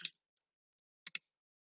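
Computer mouse clicks while working in Microsoft Word: a single sharp click, another a moment later, then a quick double click, crisp and close against silence.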